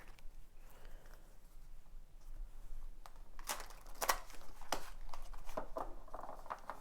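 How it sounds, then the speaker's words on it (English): Papery tarot card shuffling, a run of soft riffling and crisp flicks with a few sharper snaps, close and moderately loud with no talking. "Shuffle it just a little bit more."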